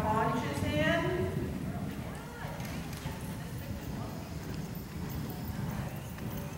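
A horse trots in an arena during a dressage clinic lesson, its hoofbeats a steady, moderately distant rhythmic thudding beneath an instructor's voice speaking throughout.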